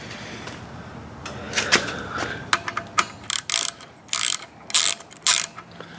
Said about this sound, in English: This is a 16 millimeter. It seems to fit. I got a 1/2 inch drive on it, and we're just going to back it out just a little bit.